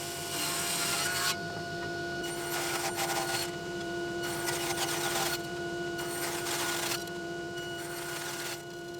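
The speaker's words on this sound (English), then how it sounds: "So I'm essentially just cutting really long dominoes." Long walnut strips cut into dominoes at a woodworking saw, a loud steady machine whine with repeated bursts of cutting noise as each piece feeds through, no talk.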